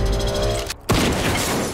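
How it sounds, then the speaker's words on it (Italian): A single sharp rifle gunshot from a hunting-themed film trailer cracks out loud and sudden right after a brief silent pause that cuts off the preceding music, with a broad burst that rings and decays. "Lo sparo del fucile spaventa la selvaggina."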